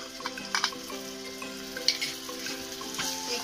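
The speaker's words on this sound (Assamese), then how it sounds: "এইখিনিও এতিয়া অকণমান সময় ভাজি ল'ম" Ginger, garlic and green chilli paste fries with browned onions in a pan over a medium gas flame for bhindi masala. A soft, quiet sizzle carries scattered crackles and pops, with a faint steady hum beneath.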